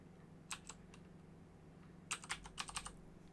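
Someone types a short keyword on a computer keyboard in two quick bursts of light key clicks, quiet and close, with a faint steady hum underneath.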